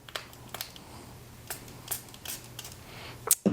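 A handheld screen-cleaner spray bottle mists onto a phone screen in several short, sharp hissing bursts, close and isolated, with a faint hum beneath.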